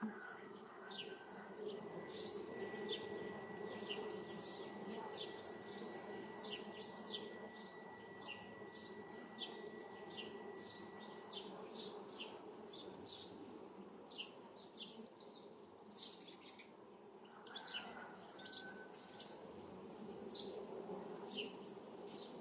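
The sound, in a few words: honeybees buzzing around hive colony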